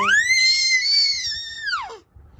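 A three-month-old baby lets out one long, high-pitched scream lasting about two seconds, close and loud, then it breaks off into quiet.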